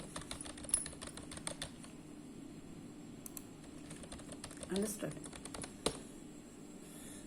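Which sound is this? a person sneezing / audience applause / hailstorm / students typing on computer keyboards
students typing on computer keyboards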